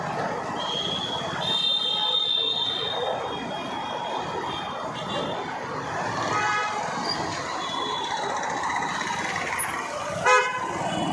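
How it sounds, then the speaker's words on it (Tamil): Street traffic in a jam while a food delivery rider waits: a broadband road rumble, several short high horn toots scattered throughout and a louder honk near the end. "டிராஃபிக் ஜாம் ஜாஸ்தி இருக்குது"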